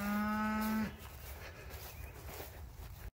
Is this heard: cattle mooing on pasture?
yes